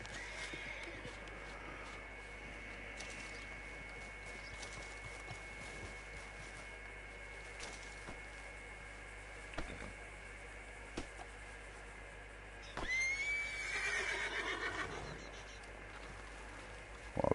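A horse in a hunting video game gives a short whinny near the end, rising out of a steady low ambient hum, with a few faint hoof sounds beforehand.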